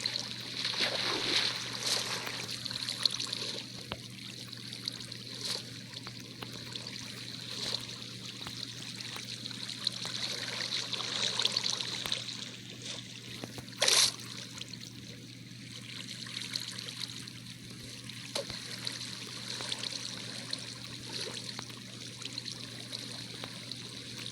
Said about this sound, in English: Because I want the water to continue flowing